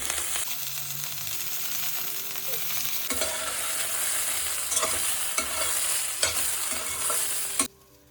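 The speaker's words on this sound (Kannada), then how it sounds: "ಸ್ವಲ್ಪ ಹುರಿದಾದ್ಮೇಲೆ 3 ಸ್ಪೂನ್ ಆಯಿಲ್ ಹಾಕ್ಕೊತಾ ಇದ್ದೀನಿ." Okra sizzles in a pan after oil is added: a bright, continuous frying hiss, close and fairly loud, with a few sharp spoon-against-pan clicks and scrapes, ending abruptly.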